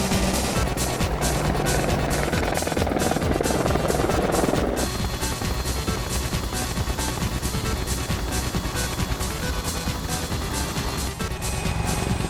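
An Apache Longbow attack helicopter flies with a loud, continuous rotor thump and turbine drone, steady rhythmic blade beats throughout with no talk.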